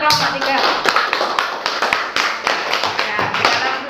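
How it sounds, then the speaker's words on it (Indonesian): Classroom applause for a student group, a dense burst of clapping from many hands that carries on for several seconds, loud and close, with some voices mixed in. "Beri tepuk tangan untuk kelompok 3."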